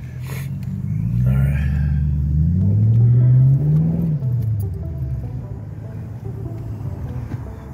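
A car drives near a South Avenue bridge in Bridgeport, Connecticut in cold, snowy weather. Its engine rumbles loudly and climbs in pitch as it accelerates, then eases off into a steady low drone.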